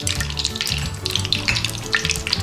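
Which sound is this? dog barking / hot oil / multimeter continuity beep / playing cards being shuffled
hot oil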